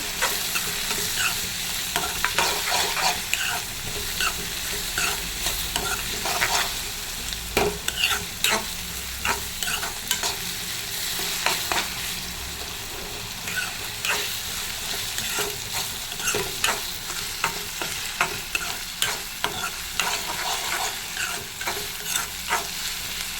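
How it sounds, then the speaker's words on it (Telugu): Continuous loud sizzling of food frying in a pan, with brisk, repeated stirring scrapes throughout, close up, and no voices. "దీనికి మనం ఫ్రై చేసుకోవాలి. బాగా ఫ్రై అవ్వాలా."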